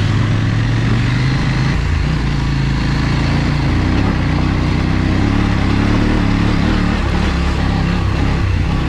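Dirt motorcycle engine running steadily while riding a muddy trail in snow and mud, a loud continuous drone with shifting revs and no talk.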